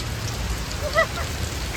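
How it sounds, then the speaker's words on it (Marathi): Continuous steady rain, a dense hiss of drops falling on surfaces, with no voices. "गाईजांनो पाऊस बघा."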